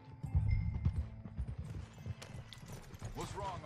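Horse hooves clip-clop in Red Dead Redemption 2 on a foggy forest ride, a fairly loud rhythmic series of hoof beats early on that thins out, with a brief whinny-like sound near the end and voices talking over it.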